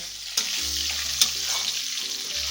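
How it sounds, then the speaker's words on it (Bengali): Chopped tomatoes sizzle steadily in hot oil, with a couple of sharp clicks as a spoon stirs the pan. "এর মধ্যে কুচনো টমেটো দিয়ে দেবো"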